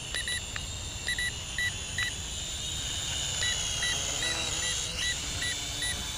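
Short electronic beeps from a JJRC H11WH drone remote controller repeat in quick pairs and bursts over a constant loud whirring motor and hiss, with no talking.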